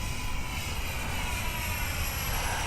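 An XFLY C-17 Globemaster RC plane with four motors flies at full speed, giving a steady, loud, broadband electric-motor whine and rushing drone without a break.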